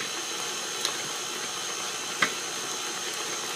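A stand mixer steadily whirs as it folds chocolate chips into gluten-free, dairy-free, egg-free cookie dough, with a couple of faint clicks breaking the constant motor hiss and no voices.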